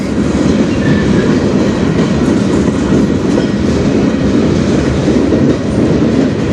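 A CN freight train rolls past close by on the Strathroy Sub, a continuous loud rumble with rhythmic clickety-clack of wheels over rail joints and no break throughout.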